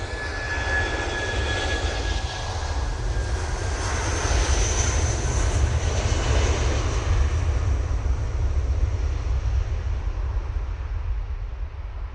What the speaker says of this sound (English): Gulf Air 787-9 Dreamliner, now in short final.